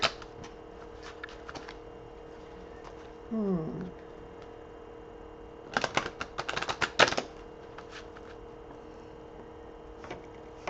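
Brief bursts of oracle cards being riffled and shuffled, a couple of quick clusters of crisp flutters with quiet pauses between.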